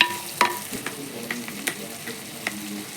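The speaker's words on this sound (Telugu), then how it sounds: "మసాలాలు బాగా ఫ్రై అయ్యే వరకు వేయించుకొని" Spices with salt and turmeric frying in a pan for prawn biryani, a soft continuous sizzle broken by a few sharp scrapes and clinks of stirring, fairly quiet and close with no talking.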